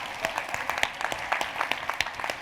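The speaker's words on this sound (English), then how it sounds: "But I think we need to give him a round of applause to Carlos." A small conference audience claps in a lively round of applause, individual claps distinct and uneven, close and moderately loud throughout.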